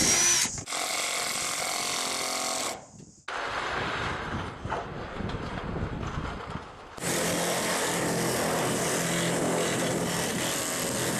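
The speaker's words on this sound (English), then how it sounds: "New sheets are carefully measured, cut, then manoeuvred into place before fixing with tack screws." Power drill driving tack screws to fix new roof sheets, loud whining runs of the motor that stop and restart, with a short pause and scraping mechanical noise between bursts, no voices.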